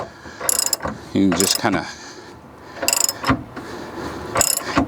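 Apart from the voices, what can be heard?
ratchet wrench snugging Andersen fifth wheel hitch bolts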